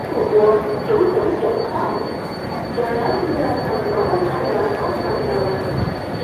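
A train rumbles steadily past with a metallic hum and a faint high whine, filling the space continuously, at Woodlands train station in Singapore.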